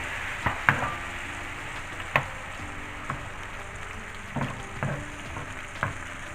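Canned diced tomatoes go into a frying pan with sizzling cumin; a soft, constant fry runs under scattered sharp scrapes and clinks of stirring spread across the clip.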